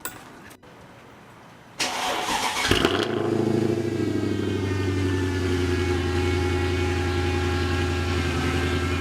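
A Mercedes-AMG car engine cranks briefly, fires up with a loud burst, then settles into a strong, steady, throbbing idle close by, with no voices.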